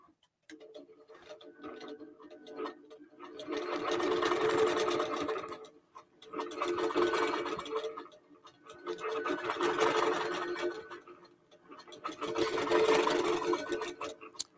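A QBOT V3 computerized quilting machine stitches a filled design across a quilt, its mechanical whir coming in four long bursts with short quiet pauses between, steady and fairly close.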